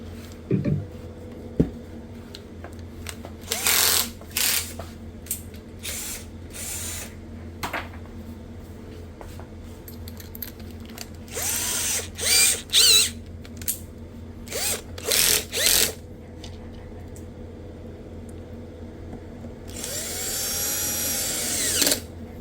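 Screws being driven with a power driver while repairing a Marshall Kilburn II portable speaker, heard as a series of short, close bursts of whirring separated by pauses, with a longer run near the end.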